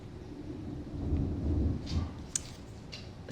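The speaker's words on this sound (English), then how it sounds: "the storm is kind of distracting me" A thunderstorm with a low, rolling rumble of distant thunder swelling and fading under a soft wash of rain, with a few faint clicks.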